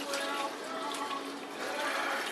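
Chicken stock pours steadily into a pot, a continuous splashing gush with a low voice murmuring faintly in the background.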